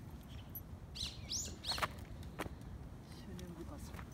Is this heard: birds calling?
yes